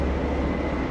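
Inside a moving older passenger train, a steady low rumbling roar with a broad hiss fills the carriage continuously, close and even, with no talk.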